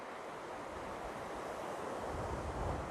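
Steady broadband wash of ocean surf rolling onto Manguinhos beach in Búzios in the early morning, with wind noise against the microphone and no voices.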